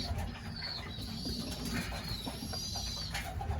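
Racing pigeons coo inside a loft, soft throaty calls repeating close by over a busy low rumble, with faint chirps and a thin high tone drifting above.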